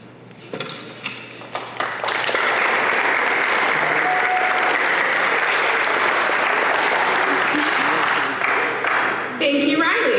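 Applause at a school homecoming speech event, starting with a few claps and then swelling into sustained, loud clapping from a large audience that continues steadily before tapering off slightly near the end.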